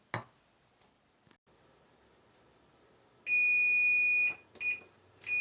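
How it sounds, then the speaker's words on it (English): A kitchen oven timer sounds a loud, shrill electronic beep, a sustained tone of about a second followed by shorter repeated beeps, close by, with no talking. "the timer went off"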